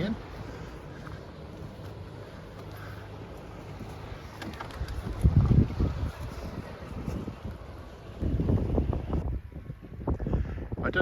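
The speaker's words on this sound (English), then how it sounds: "Boat going out, not coming in." A boat motor rumbles past heading out on open water near St Anthony's Lighthouse in Cornwall, swelling louder midway and again near the end, with wind noise and faint birds in the background.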